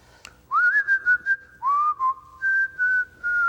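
A person whistles a melody alone and close by, with clear sustained notes broken by short detached phrases, first rising and then settling into long held tones.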